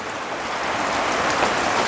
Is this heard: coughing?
no